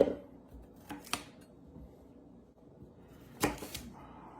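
A knife chopping the heads and tips off carrots on a board, a few sharp, close cuts in two brief pairs separated by quiet, with no talking.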